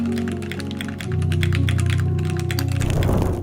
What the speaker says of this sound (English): it provides a premium smooth typing experience